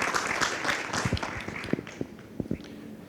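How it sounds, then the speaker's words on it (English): A seminar audience claps to encourage a presenter: a burst of scattered hand claps that thins into a few separate, sharp claps, fairly close and moderately loud. "So give him a motivational clap."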